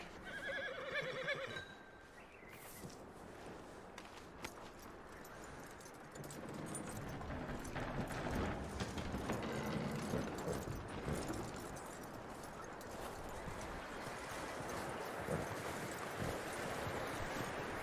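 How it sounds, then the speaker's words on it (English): Faint horse snort and neigh from the Red Dead Redemption 2 video game at the start, followed by a long stretch of soft rustling, clip-clopping hooves and ambient outdoor noise, quiet and continuous, with no speech. "That looks like a decent horse. You should keep him."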